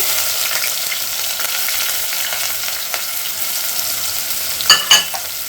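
Chopped onions fry in a pan with a continuous close sizzle, and a couple of sharp scraping stir sounds come near the end.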